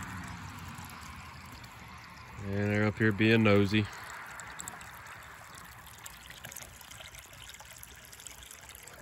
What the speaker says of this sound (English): filling up the water here for the steers.